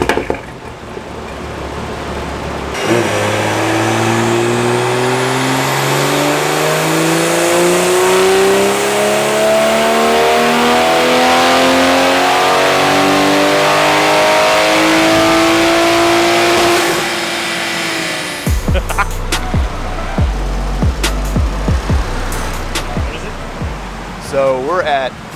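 A Toyota Supra with a B58 engine on the Pure800 turbo pulls hard on a dyno, its engine note climbing loudly and steadily for about fifteen seconds before dropping off, followed by clattering noises and muffled voices.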